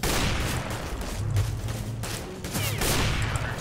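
Gunfire from a Counter-Strike match, a dense run of rapid shots and echoing bursts from the game, with no talk over it.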